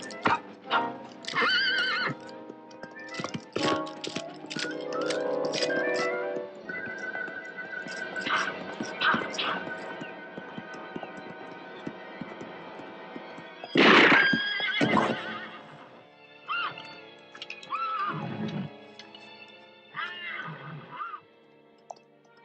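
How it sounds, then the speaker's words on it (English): A horse whinnies in loud, drawn-out neighs near at hand, with hooves clip-clopping in between and other animal calls mixed in, in a period film scene. "Good horse you had there."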